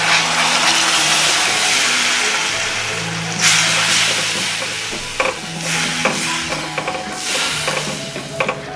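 Water splashes into frying masala in a hot pan for a rawas fish curry, setting off a loud hiss and sizzle that fades into bubbling and scraping stirs.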